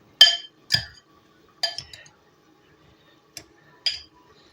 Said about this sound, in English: Mix up everything well. Let all the vegetables mix well.